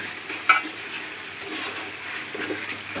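Ground spice paste for khichuri fries in a pot, a steady close broadband sizzle with a sharp clack near the start and soft stirring scrapes.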